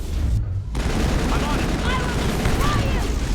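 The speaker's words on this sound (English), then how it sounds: "Please stop shooting me point blank in the face." Enemy gunfire in the Mass Effect video game, a steady dense barrage of shots close by, running continuously under a constant wash of battle noise.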